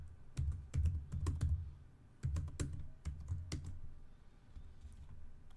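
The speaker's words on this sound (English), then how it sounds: "Type in the password for the user." A password being typed on a computer keyboard: two bursts of close, muffled key presses at a brisk uneven pace, separated by a short pause, then fading to quiet room tone.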